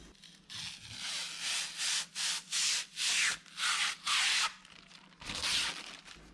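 Repeated rough scraping and rubbing as a computer case top panel is slid along its metal frame, in short bursts with brief pauses.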